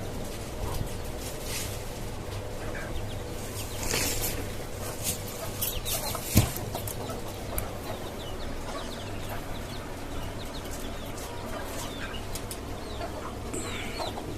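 Soft, intermittent clucking from a desi hen among tiny peeping newly hatched chicks on a rooftop farm, with scattered bird calls and rustling around them.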